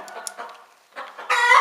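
A hen squawks in short, agitated bursts, then lets out a loud, harsh cry at the end, close by.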